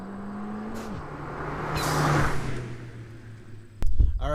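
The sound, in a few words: Ford Fiesta ST Turbosmart blow-off valve, drive-by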